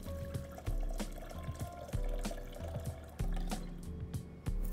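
Water poured into a container for homemade Brazil nut milk, a close liquid splash and fill sound in several separate pours with short gaps between them, no voices.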